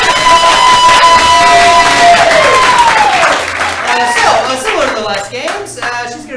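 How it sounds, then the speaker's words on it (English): Audience applause and clapping at an improv comedy show, loud and dense at first, then thinning out with a host's voice and cheers mixed in over the last seconds. "Carolyn's the last one left, so everybody give her applause for Carolyn!"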